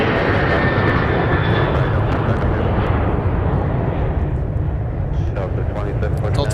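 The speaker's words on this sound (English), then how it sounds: "there's Delta 258 Heavy that has pushed back from the gates over at Concourse F" Delta heavy jet taxiing from Concourse F toward runway 30 left at Minneapolis–St. Paul airport, a continuous broad engine roar heard from a distance with a faint rising whine.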